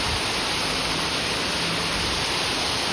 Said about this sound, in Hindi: इतने ज़्यादा ओले गिर रहे हैं और सारा ही चारों सफेद हो गया, इतने जोरों से ओले, इतनी बारिश,